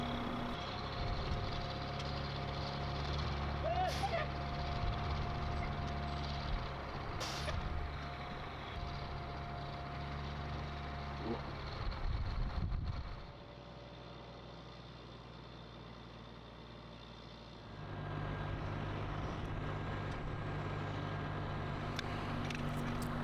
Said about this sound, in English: we have an engine that's going to be flowing about 500 gallons a minute and just pumping out into the woods